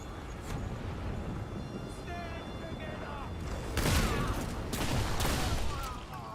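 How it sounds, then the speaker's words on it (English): Shotgun blasts in Remnant 2, a few loud booming shots near the end over a background of game noise and mechanical clatter. "I really like this shotgun."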